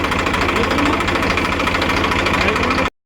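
A tractor engine runs hard while powering a wheat-cutting machine in a field, a loud, steady rattling drone close by that cuts off abruptly at the end.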